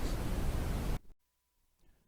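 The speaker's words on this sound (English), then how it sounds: "listen to static coming from a television tuned to a non-existent channel? Static is white noise." Broadband hiss of a television tuned to a dead, non-existent channel fills the first second loud and steady, then cuts off abruptly into near silence.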